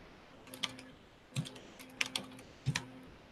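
Bursts of quick keystrokes on a computer keyboard come in several short clusters, close and fairly quiet, with no talking.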